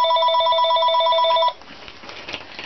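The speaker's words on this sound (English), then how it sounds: "oops, there's my phone." A telephone rings loudly nearby with a bright electronic trill, then cuts off abruptly, leaving faint room noise.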